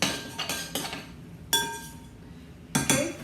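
Spoon clinking against a glass or ceramic bowl while onion and fresh garlic are mixed into a vegan chickpea salad, four or five separate sharp clinks spaced irregularly, close and clear with no talk.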